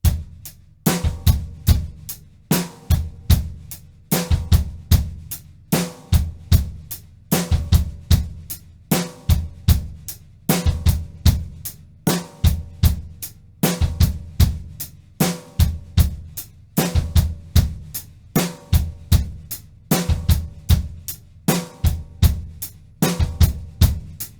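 A six stroke roll pattern is played on a drumset as a practice exercise: crisp, evenly repeated bursts of drum and cymbal strokes in a steady looping rhythm, loud and close with no voices.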